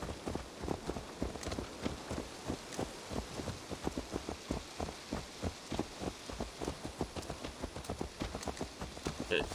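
Steady rhythmic hoofbeats of a horse in the video game Assassin's Creed Valhalla clip-clop at a trot over a constant rain-like hiss, with faint voices underneath.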